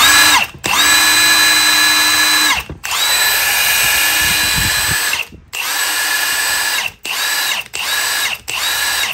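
A Milwaukee M18 cordless 1-inch impact wrench runs loud and close in several long bursts of whining motor and rapid hammering, separated by short pauses, with no talk over it.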